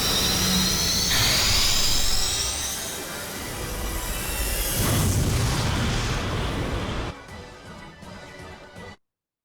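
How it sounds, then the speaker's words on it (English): Photon cannon firing in the video game Phantasy Star Online: a loud sweeping charge-up whine followed by a heavy roaring blast that rumbles on, then drops to a quieter hum before cutting off abruptly. "Photon cannon activated!"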